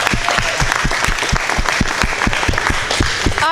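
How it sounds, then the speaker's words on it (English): Audience applause for fire department volunteers at a charity telethon, the Crusade for Children, with loud, dense clapping and a steady rhythmic beat running throughout, close and sustained with a few cheers. "another round of applause for you guys"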